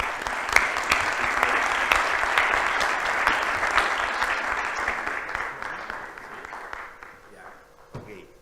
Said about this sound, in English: So a big round of applause for Dean José de Gregorio